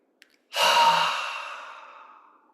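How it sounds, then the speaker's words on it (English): A single slow, deep inhalation during a guided breathing meditation, starting abruptly after a faint click and tapering off gradually, close and airy with no talking. "slowly breathing in."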